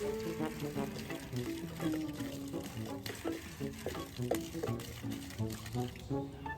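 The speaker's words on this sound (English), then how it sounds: "Go ahead and pour all the water in." Water pours steadily into a fence post hole for a raised garden fence, a continuous splashing gurgle with some faint background talk.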